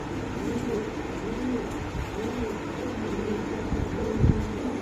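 Baby pigeons and other pigeons at a pigeon sale coo softly and repeatedly in low, rolling calls over a steady background hum.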